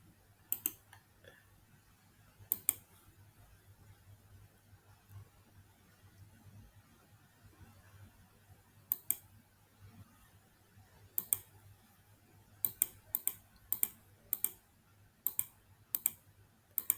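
Computer mouse clicking while working in GIS software, sharp isolated clicks scattered at first, then a quicker run of single clicks near the end, close and crisp over a faint quiet room hum.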